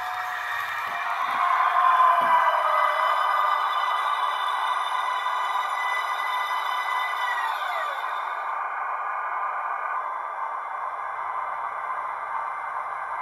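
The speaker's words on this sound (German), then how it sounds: "dann könnt ihr das Bremsquietschen nochmal hören" ESU sound decoder in an ÖBB CityJet model train giving a brake squeal, a sustained high-pitched screech over steady running hum that bends downward and then fades as the train comes to a stop.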